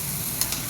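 Chicken and ginger garlic paste hiss steadily in a hot pan, a near, even frying crackle broken by a couple of quick utensil scrapes.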